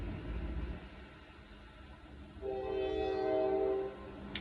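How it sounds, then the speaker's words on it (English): A train rumbles past at a distance, then sounds a steady sustained horn blast of over a second over the low rolling noise of the rail cars. "Confirmation from the train."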